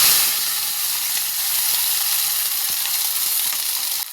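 Cauliflower frying with spices in a pan for a Tamil-style poriyal, giving a steady, close sizzle and hiss that carries on without a break, with no voices.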